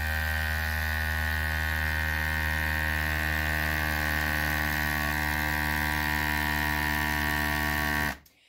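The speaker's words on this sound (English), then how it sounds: "And there's the suction noise, okay?" Vacuum sealer pump drawing air out of a food storage jar lid, a steady close electric motor hum with harmonic buzz that holds for about eight seconds, then cuts off abruptly.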